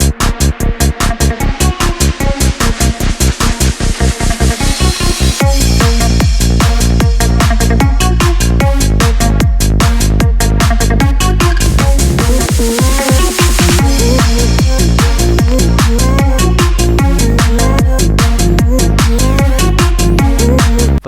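Modern trance track built in Ableton, loud and continuous, with a steady pounding four-on-the-floor kick and dense layered synths throughout, a brief breakdown near the middle before the full beat returns.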